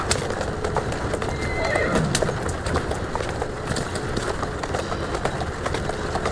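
A horse in the video game Assassin's Creed Syndicate neighs in a drawn-out whinny while its hooves clip-clop steadily, close and fairly loud over a busy street background.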